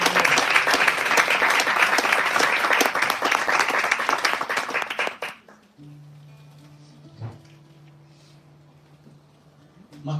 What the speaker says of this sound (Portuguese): Dá uma forte salva de palmas.